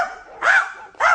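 A voice playing the goblin Pumuckl imitates a big dog, giving two loud, close, gruff barks with a short gap between them.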